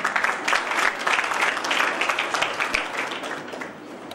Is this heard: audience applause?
yes